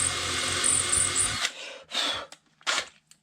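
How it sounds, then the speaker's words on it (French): Power drill boring a hole while building a turntable, a steady whirring run for about a second and a half, then a couple of short, loud bursts separated by quiet. "Peut-être percer à peine un peu plus."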